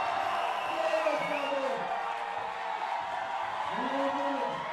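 A crowd at the Bloc Shop Open 2019 bouldering finals cheers and whoops for a climber as a steady, fairly loud wash of voices that swells and holds across the moment.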